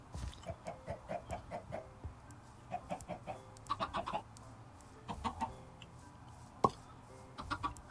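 Chickens cluck in Minecraft, a series of short, soft clucks in loose rhythmic bursts, with a sharper squawk near the end, heard alone without talk.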